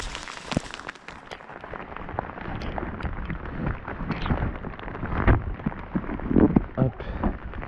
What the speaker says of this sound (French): Ah, ça pleut vachement bien là.